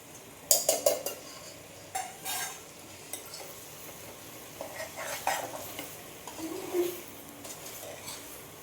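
Ground spices — turmeric, cumin-coriander, Kashmiri red chilli, hot chilli and salt — are stirred into corn in a pan, with soft repeated scraping and clinking of a spoon over a faint sizzle, quiet and close.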